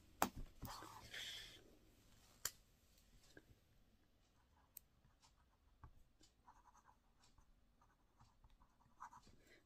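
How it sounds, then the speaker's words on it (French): A glitter gel pen scratches across a small slip of paper in short, quiet strokes, with faint taps and clicks in between and soft handling noise in a hushed setting. "Je vais écrire..."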